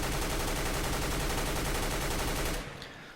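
An M4 rifle in Counter-Strike: Global Offensive fires a rapid continuous spray of loud, evenly spaced shots for about two and a half seconds, then stops abruptly with a brief fading tail.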